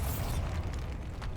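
Bombarda blasting spell in Hogwarts Legacy, a booming burst with a dense low rumble that holds steady for over a second, loud and close with a bright crack at the start.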